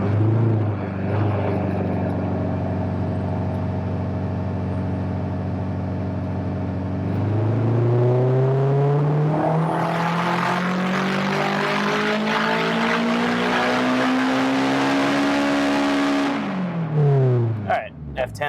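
A turbocharged Honda S2000 engine drones steadily on a dyno, then climbs in a long rising rev pull with growing whoosh and roar before abruptly dropping off, loud and close.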